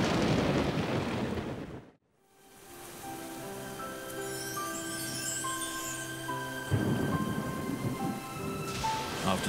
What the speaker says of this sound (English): the animals of the high country now find themselves lashed by storm and heavy rain